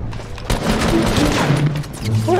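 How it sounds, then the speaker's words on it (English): Rapid gunfire in the Fortnite video game, dense overlapping shots and bursts filling the moment loudly, with a player's voice talking over the action. "How many times do I have to shoot you?"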